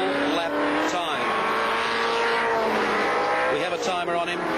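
A 1979 Holden Torana A9X race car runs flat out at Bathurst, its loud engine roaring steadily and close with a rising and falling pitch and tyre noise. There is no speech over it.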